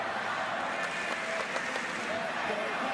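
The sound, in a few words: crowd cheering at college wrestling match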